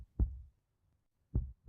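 Two slow, deep heartbeat thumps from the video game The Letter, each a soft double pulse, spaced over a second apart in near silence.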